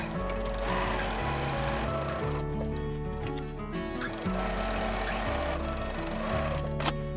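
Sewing machine back stitching through fabric, a steady close motor hum with rhythmic needle chatter that slows and shifts speed briefly midway, then resumes.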